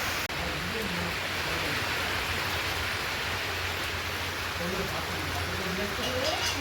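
Steady rain falls without a break, a dense even hiss with low rumbling patter underneath, heard as though from a home where a meal is being cooked.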